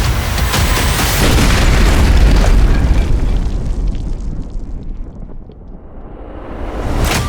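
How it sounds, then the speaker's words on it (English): A single heavy report from an Auto-Ordnance TAO50 bolt-action long-range rifle, a loud close boom that rolls off into a long fading rumble and wind noise. "The TAO50 is built for extreme distance, delivering exceptional accuracy and unrelenting force with every shot."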